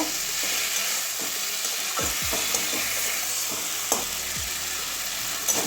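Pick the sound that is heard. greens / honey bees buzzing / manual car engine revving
greens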